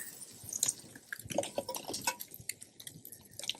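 Liquid is poured over Italian-style stuffed artichokes with peas, giving soft wet drips, splashes and squishy trickles in an uneven run, close and fairly quiet with no talking.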